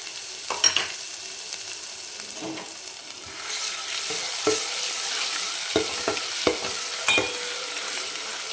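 Ginger and garlic sizzle in hot oil with turmeric in a home-style pan for dry mutton, a steady soft hiss broken by scattered sharp clicks and scrapes of a stirring spoon, no voices.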